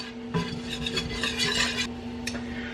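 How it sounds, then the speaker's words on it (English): Butter and flour roux stirred in a pan, a spoon scraping and swishing in quick repeated strokes over a soft sizzle, close and alone. "So basically we're making a roux here"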